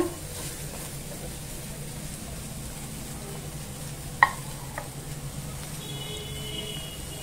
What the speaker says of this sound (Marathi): आता आपण कांदा आणि लसूण भाजून घेऊया।